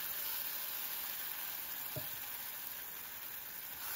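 Ground spice paste frying in hot oil in a kadai: a faint, even sizzling hiss that carries on without pause, with one soft knock partway through and no talking.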